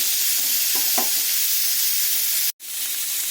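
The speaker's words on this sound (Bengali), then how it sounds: "এঁচড়গুলো যদি অল্প একটু তেলে ভেজে নিই হালকা করে," Jackfruit pieces fry lightly in a little oil in a kadai, making a steady, even sizzle and hiss with a couple of faint stirring touches, then a brief dropout before the frying sound resumes.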